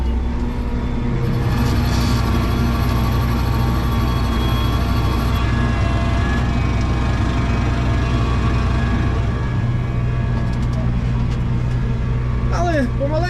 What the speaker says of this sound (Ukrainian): працює 940 це досить старенький трактор